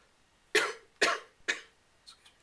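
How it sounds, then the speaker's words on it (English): Three sharp coughs in quick succession, close and fairly loud, followed by a softer throat-clearing sound. "That was a real cough."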